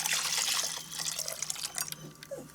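Gravy pours into a pot in a slow cooker, a thin splashing liquid stream that trickles and drips, moderately loud and close, with no talking.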